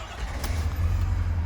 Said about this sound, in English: I'll fire it up.